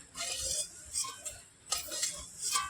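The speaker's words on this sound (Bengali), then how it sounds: "এই মশলাগুলোকে আমি বাটির মধ্যে নিয়ে নিচ্ছি।" Dry-fried spices for an olive pickle are scraped and tipped from a pan into a bowl, a few light clinks and scraping rattles in short close bursts.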